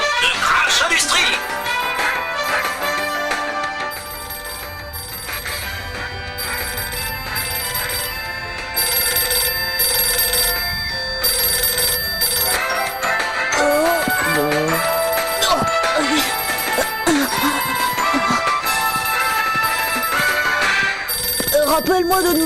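Telephone ringing in a French animated cartoon about a family, the ring repeating steadily over music and sound effects for most of the stretch.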